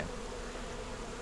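Honeybees hum at the hive in a dense, even drone that holds close and steady throughout.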